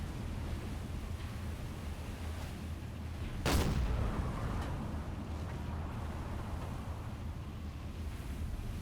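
A submarine deck gun fires a single booming shot at sea in Silent Hunter 4, aboard the USS Salmon, the blast rising out of steady wind and wave noise and fading quickly.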